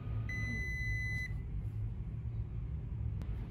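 A Toshiba RC-10VSR/RC-18VSR high-frequency rice cooker gives one clear, steady electronic beep lasting about a second as its cancel button is pressed, over a constant low background rumble, followed by a faint click.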